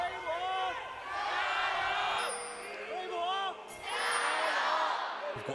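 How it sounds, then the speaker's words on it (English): Esports arena crowd at an LPL Spring Playoffs match between JD Gaming and Weibo, chanting for both teams at once, with loud rhythmic bursts of massed voices overlapping and swelling under clear commentary. "I hear Weibo in my right ear, JDG in my left, but they're chanting over each other."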